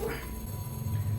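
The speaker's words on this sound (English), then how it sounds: "Hearing the dog bark." A dog barks indoors somewhere in a home, with a couple of short muffled barks heard faintly in the background over room noise.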